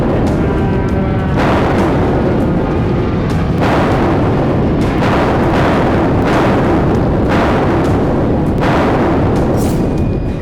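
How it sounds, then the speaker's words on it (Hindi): Israeli artillery bombardment over Gaza at night, heard as a loud, relentless series of heavy booms and blasts, roughly one every second or two, over a continuous roaring rumble. "एक ही मिनट के भीतर 10 से ज्यादा धमाके हो रहे थे।"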